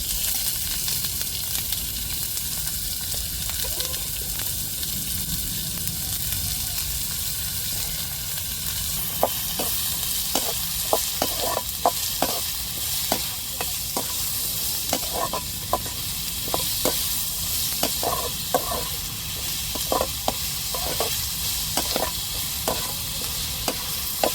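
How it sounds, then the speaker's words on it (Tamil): Onions and green chilies sizzle steadily in hot oil for a fish cutlet masala, with frequent stirring clicks and scrapes of a spoon against the pan over a continuous frying hiss. "இப்போ எண்ணெயை ஊற்றியாச்சு நல்லா நம்ம இப்போ வெங்காயத்தை போட்டு தாளிச்சிக்கிடுவோம் வதக்கிக்கிறோம்"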